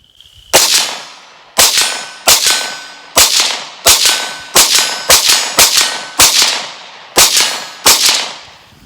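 Ruger 57 pistol fired at a steel target about 50 yards out, eleven loud sharp shots at a steady, unhurried pace, each report followed by a ringing metallic clang and a brief decay, with no talking.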